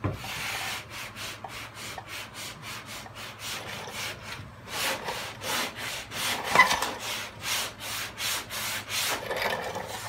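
A hand block sands a Toyota Camry body panel before primer in a steady series of close, rhythmic rasping strokes that grow slightly louder and faster near the end, with no talking.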